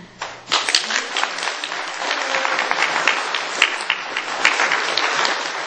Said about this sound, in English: I want us to give a big applause to our Caucasian man